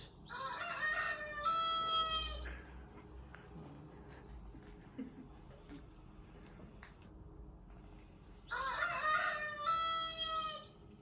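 A rooster crows loudly twice, near and clear, with a quiet farmyard pause between the two calls.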